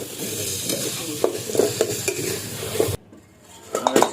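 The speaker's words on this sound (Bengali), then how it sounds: "এটাকে ভালো করে মিক্স করে দেবো" Chicken filling with chilli powder, chaat masala, turmeric and spices being stirred for samosas, a sizzle with repeated clinks and scrapes of a spoon against the pan that stops abruptly, then a few more clatters.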